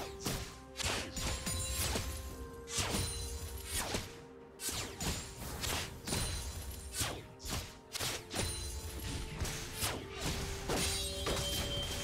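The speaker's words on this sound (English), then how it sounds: "His turret has been destroyed." A turret is destroyed in League of Legends, heard as a rapid run of heavy thuds, crashes and smashing hits layered over a steady tonal hum, loud and dense throughout.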